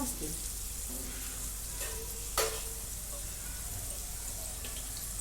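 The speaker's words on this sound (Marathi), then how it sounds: "बारीक गॅस करून मी याच्या दोन्ही बाजू भाजून घेते" Garlic butter chicken pieces browning in a pan over low heat, a soft continuous sizzle with occasional utensil clinks and one sharper scrape, heard without speech.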